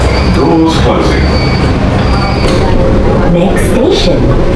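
A metro train in Kuala Lumpur near Bukit Bintang shuts its doors and pulls away, a steady loud rumble of rail noise with clunks and squeals, under a voice speaking over the carriage din.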